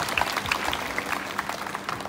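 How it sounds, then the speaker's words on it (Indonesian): Brief applause from an assembled crowd at a 17 August flag ceremony in Indonesia, steady scattered clapping for about two seconds, moderately loud. "Ya, tepuk tangan dulu buat HRD."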